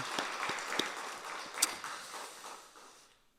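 Church congregation clapping their hands together during a Korean sermon, a dense, steady burst of applause that swells, peaks sharply, then fades away toward the end.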